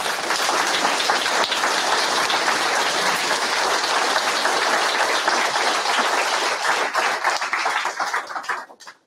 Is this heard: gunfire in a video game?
no